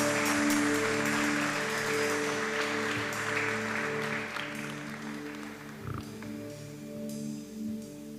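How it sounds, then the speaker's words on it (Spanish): Congregation applause at a Sunday church service: a dense wash of clapping that fades over several seconds beneath sustained, steady keyboard music. "Dale un fuerte aplauso a nuestro Dios."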